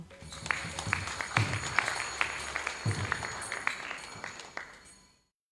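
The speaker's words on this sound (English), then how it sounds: "A huge round of applause to him" Scattered clapping from an audience at a college graduation ceremony, a steady patter of hands that swells slightly and then fades out, fairly faint and with no voices over it.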